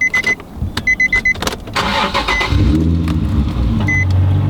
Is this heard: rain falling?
no